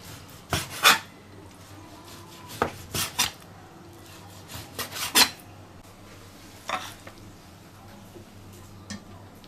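A kitchen knife strikes a cutting board in short separate bursts, a few sharp chops spaced irregularly, close and fairly loud against a quiet room while pork steamed noodles are being made.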